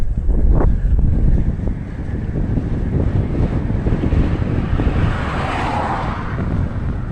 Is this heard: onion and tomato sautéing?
no